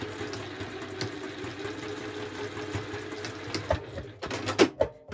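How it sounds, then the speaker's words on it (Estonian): A sewing machine stitches a 3D yarn tuft in place, running as a steady, fairly quiet mechanical whir for several seconds before breaking into a few louder clicks and knocks near the end. "ma õmblen selle lõngatuusti siia lihtsalt kinni"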